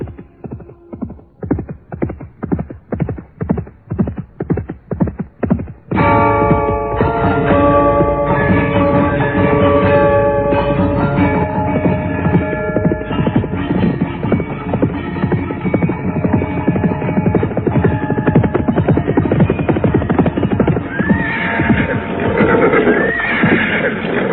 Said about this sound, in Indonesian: tiba-tiba mereka dikejutkan oleh suara derap seekor kuda yang datang dengan cepatnya